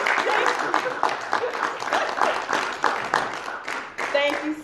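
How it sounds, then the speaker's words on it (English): Audience at an award presentation during a fundraiser: sustained, fairly close applause with rhythmic clapping, mixed with voices talking over it. "Y'all give a nice round of applause."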